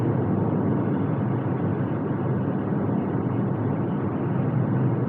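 A Porsche Macan Turbo with a resonated muffler bypass exhaust, on the move, gives a steady, unbroken low drone and rumble, loud and even throughout.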